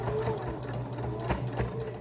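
A sewing machine stitches through a thick fabric pleat on a face mask, a fast even mechanical whir with a faint rhythmic struggle as it pushes through the heavier layers, close and alone.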